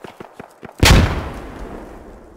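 A single loud grenade blast in the video game Squad goes off close by after a few faint thuds and shots, its heavy boom rolling and decaying over the next second and a half.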